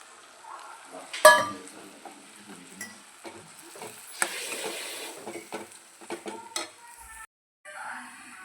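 A spoon stirs a sizzling spice mixture in a pan, with scraping and clinking against the metal over a soft frying hiss, in irregular bursts and a brief pause near the end, with no talk.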